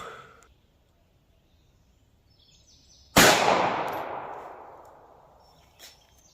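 A single sharp .380 ACP gunshot of Federal HST ammunition fired from a short-barrel Ruger LCP2 pistol, one loud crack that decays over about two seconds of outdoor echo, then a faint small clank.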